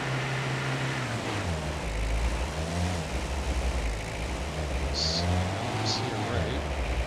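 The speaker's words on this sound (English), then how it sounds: "If you can hear me over top of the UTV running here." A UTV engine idles and hums steadily in the hunting game Way of the Hunter, a low continuous drone with slight pitch wavering throughout, heard alongside a voice talking over it.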